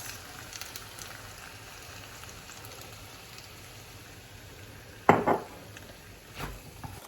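Stir-fry noodles with soy sauce and sesame dressing tossed in a pan, a soft steady sizzle punctuated by one sharp metallic clatter of utensil on pan and a softer scrape after.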